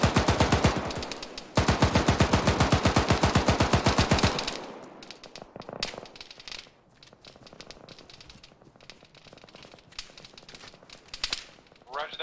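Gunfire in the military video game Arma: a long, fast machine-gun rattle of evenly spaced shots pauses briefly, resumes, then gives way to scattered distant single shots and crackles, with faint voices.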